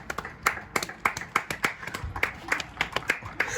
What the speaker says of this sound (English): I'm fat enough that I can slap my tummy and make a good clapping sound